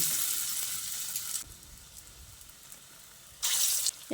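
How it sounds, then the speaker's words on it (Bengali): Steady bright sizzle of flat pointed gourd pakoras frying in hot oil in a wok, with brief louder crackling bursts near the start and end; no voices. "এই বড়া বা পকোড়া যাই বলুন না কেন এগুলোকে ভেজে নেব"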